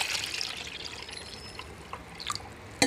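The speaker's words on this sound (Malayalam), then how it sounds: "ഇനി നമുക്കിതിൽ 1 കപ്പ് വെള്ളം ഒഴിക്കാം." Water from a cup is poured into a pot holding stems of the Karinkurinji medicinal herb, a faint trickling with scattered drips and a sharper splash at the very end.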